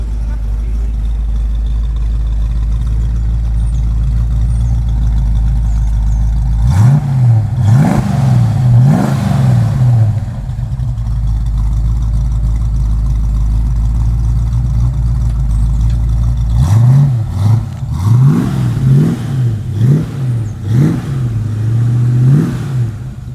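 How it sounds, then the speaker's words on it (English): A 1979 Cobra engine idles through a turbo muffler exhaust with a low, smooth hum, broken by a few quick revving blips in two bursts; voices talk over it. "It's got some kind of turbo muffler"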